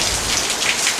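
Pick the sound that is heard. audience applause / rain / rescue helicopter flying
rain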